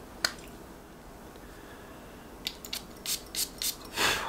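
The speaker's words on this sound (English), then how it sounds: "Let's take a couple of sprays of this one." Several short, airy hisses come from the sprayer of a bottle of L'eau D'Issey Gold Absolute perfume. They follow a quiet stretch with one early faint puff, then cluster close together near the end, the last burst the longest.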